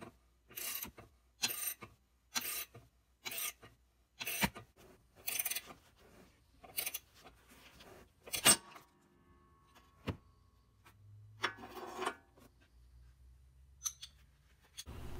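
A ball joint separator tool being screwed down on a car's upper control arm ball joint to force it out of the steering knuckle, giving evenly spaced rasping, ratcheting strokes that end in a sharp crack.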